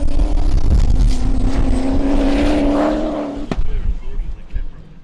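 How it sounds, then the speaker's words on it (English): A loud, droning race boat engine roars close by, its tone holding steady before dropping off, with a sharp turbocharger pop near the end and lingering engine noise, at the E C Griffith Cup. "you can hear the turbocharger just popping there"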